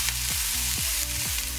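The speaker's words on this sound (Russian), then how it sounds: "Немного все это обжарим." Shredded cabbage and onion fry in a pan with a steady, loud sizzle, broken by a few soft stirring scrapes at a slow, uneven rhythm, with no voices.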